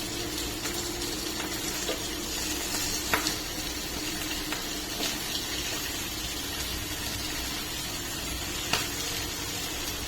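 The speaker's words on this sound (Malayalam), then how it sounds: "അപ്പം ഇങ്ങനെ എല്ലാ മത്തി ഫ്രൈ ചെയ്യാൻ വെച്ചിട്ടുണ്ട്." Sardines frying in a pan give a steady, moderately loud sizzle that runs throughout, with occasional small pops and crackles and no talking.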